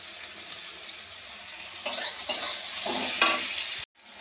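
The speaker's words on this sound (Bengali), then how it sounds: "এই যে শাক ভাজাটা হয়ে গেছে" Greens stir-fry in a pan with oil, crushed garlic, chopped onion and dried chili, a soft sizzle broken by brisk scraping stirs that grow louder before stopping abruptly.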